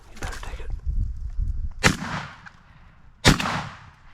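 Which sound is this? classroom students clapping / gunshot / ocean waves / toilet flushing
gunshot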